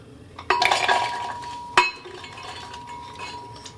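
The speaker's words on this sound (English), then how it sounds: "to my blender, I am going to add the coconut" Chunks of coconut drop into a glass blender jar with a bright clattering burst, then a second sharp clink, close and fairly quiet.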